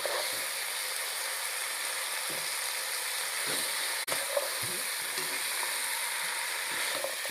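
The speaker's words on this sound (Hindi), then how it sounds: "ये सारे वेजिटेबल इसमें मैंने डाल देने हैं और इसको मैं हाई फ्लेम पे फ्राई करूँगा" Mixed vegetables for a chicken kachori stuffing fry over a high flame, giving a steady, loud sizzle with occasional clinks of stirring, close and unbroken with no talk.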